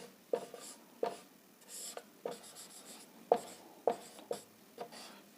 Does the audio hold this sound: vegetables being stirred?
no